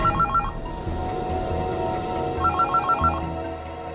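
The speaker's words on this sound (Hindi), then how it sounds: "ये किसका फोन आ गया?" Telephone ringing indoors with two short bursts of a warbling electronic ring, one at the start and one near the middle, over low background hum.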